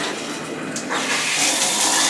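Water from a modern shower head starts spraying after being switched on, a steady broadband hiss that grows slightly louder and fuller midway and then runs continuously at close range with no voices.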